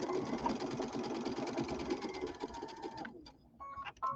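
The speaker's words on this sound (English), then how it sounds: "So we're just going to sew these together." A sewing machine runs steadily for about three seconds, joining scrap fabric pieces for a summer pillow, then stops, leaving a few faint clicks and handling sounds.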